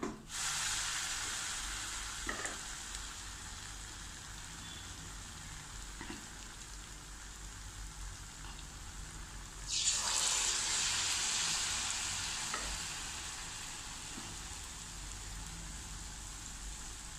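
Green gram susiyam balls are dropped into hot oil, a quiet steady frying hiss that swells into a brief louder sizzle partway through before settling.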